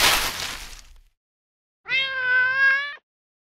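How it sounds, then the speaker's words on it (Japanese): In a Project Sekai video game story scene, a cat stuck high in a tree gives one clear, drawn-out plaintive meow after a burst of noise and a short silence. "木の上に猫さんが。"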